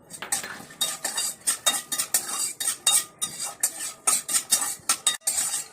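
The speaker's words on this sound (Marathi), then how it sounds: "आता छान काजू आपण लालसर भाजून घेऊया." Cashews roasting in ghee in a pan for nutritious laddoos, stirred with a metal spoon that scrapes and clinks against the pan in a steady, rapid rhythm, close and fairly loud, with no talking.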